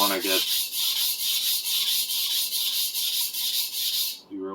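Kitchen knife, a 250mm sujihiki under restoration, stroked steadily on a 400 grit whetstone, a continuous rhythmic scraping with regular strokes, close and fairly loud, with no voices.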